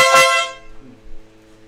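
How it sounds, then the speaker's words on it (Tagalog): A BMW GS1250 motorcycle horn gives one loud, close honk that cuts off quickly, leaving a faint hum afterward. "yung busina"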